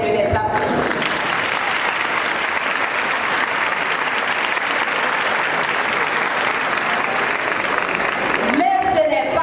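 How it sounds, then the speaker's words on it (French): An assembly applauds graduates with sustained, dense clapping from a large crowd that fills nearly the whole stretch, fading out at the end as a voice returns. "je demande à l'Assemblée de les applaudir"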